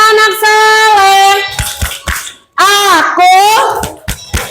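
A group of children sing a rhythmic clapping chant together in a classroom, with sustained sung phrases and hand claps, loud and close, with brief gaps between lines.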